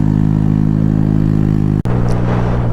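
A motorcycle on a cold road, its engine droning at a steady loud pitch with strong low harmonics, then a brief cut and a slightly higher steady note as it carries on.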